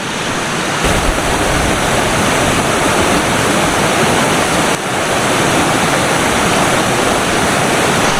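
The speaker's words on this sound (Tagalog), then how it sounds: "May lumalabas na tubig sa gilid ng bundok." Ar-arbis curtain waterfall in Abra, water pouring down a mountainside as a loud, constant roar of rushing water, close and filling the whole scene without any voices.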